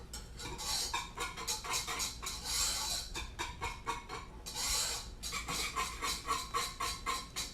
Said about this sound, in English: Sorry for all the scraping noise.